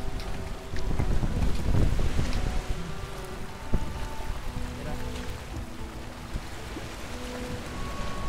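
Sailing boat in Valheim pushing against the wind, a steady broadband rush of wind and water that swells loudest early, then holds as a continuous low drone with faint tonal game sounds layered over it.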